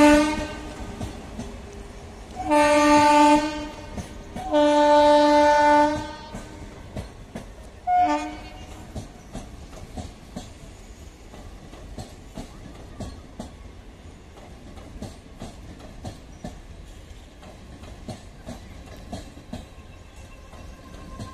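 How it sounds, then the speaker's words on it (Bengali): Horn blasts from the Sealdah–Shantipur local train arriving at Kalyani station: two long loud blasts, then a shorter one, followed by the steady rumble and rattle of the passing carriages. "শিয়ালদা শান্তিপুর লোকাল কল্যাণী রেল স্টেশনে এসে পৌঁছালো।"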